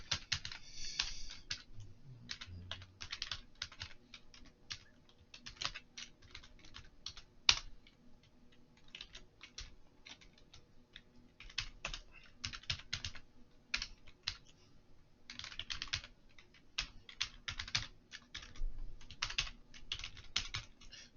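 Computer keyboard clattering steadily as HTML code is typed, with dense bursts of rapid keystrokes broken by short pauses, close and fairly quiet, with no one talking.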